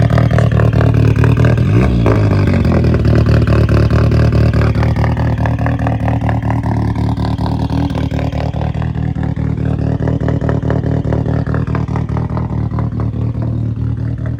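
A Vauxhall Astra VXR racing at a drag strip, its engine droning loud and close with a rising rev early on, then holding a steady, harsh note as it pulls away, with no talk over it.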